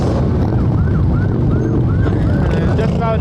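Police car sirens wail in a repeating up-and-down pattern, loud and continuous among traffic rumble, as a county, state and city police escort carrying veterans passes during an honor flight event.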